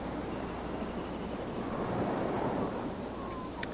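Ocean waves wash steadily along a shore, a continuous broad rushing surf that stays even and moderately distant, with faint wind mixed in and no voices.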